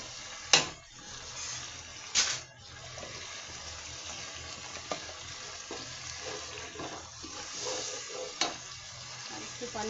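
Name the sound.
spice masala with cumin being fried and stirred for shrimp curry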